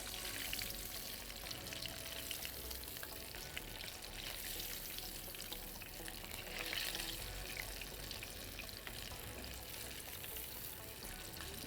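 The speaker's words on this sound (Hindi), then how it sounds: "दूसरा पीस भी हम इसका फ्राई कर लेते हैं" A piece of chicken fries in hot oil for a crispy burger, giving a faint, continuous crackling sizzle with scattered pops and no talking.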